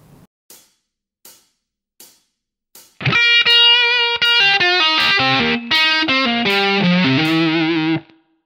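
A few muted string scratches, then a slow, heavily distorted electric guitar blues lick in the style of Albert Collins rings out loud and sustained for several seconds before cutting off.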